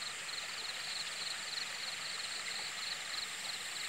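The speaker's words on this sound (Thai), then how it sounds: "น้ำตก" A small waterfall and stream at Lan Phu Lom Khao, Phu Pong Daeng, with water still low, gives a steady, faint rushing hiss that runs unbroken and fairly distant, with no voices.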